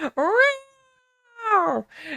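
A voice imitates a cat meowing loudly, two drawn-out, wailing meows separated by a short pause.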